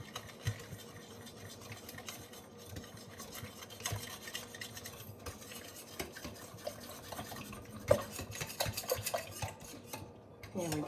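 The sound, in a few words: mixing sourdough starter into a soupy mess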